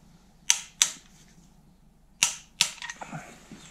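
Torque wrench clicks while tightening a bolt to 25 newton-metres during timing work on a 1993 Cadillac 4.6-litre Northstar V8 under restoration: four sharp, close clicks in two pairs, followed by faint rattling handling noises.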